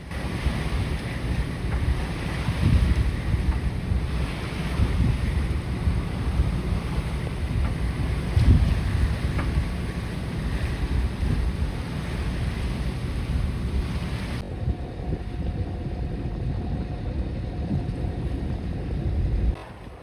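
Steady wind and wash of water around a Hans Christian 48T sailboat motor sailing up a bay on a fair day, a continuous close rushing roar with gusty swells and no talk.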